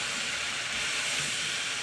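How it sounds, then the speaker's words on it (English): A steady, broad hissing sizzle of butternut squash soup ingredients frying hot in a pot, continuous and fairly loud without pauses. "You can hear it sizzling nicely."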